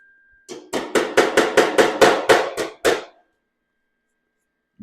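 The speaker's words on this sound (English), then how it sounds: "I hammer that a little bit" Roughly ten sharp, evenly spaced hammer blows ring out close by on the steel fender of a Plymouth Duster under repair, then stop, leaving near silence.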